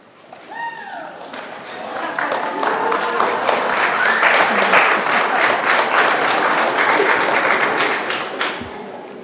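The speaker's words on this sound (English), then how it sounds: "I hope everybody gets an applause like that." Audience applause at a local planning agency public meeting, a crowd clapping that swells in after a brief voice and holds steady and fairly loud before fading slightly at the end.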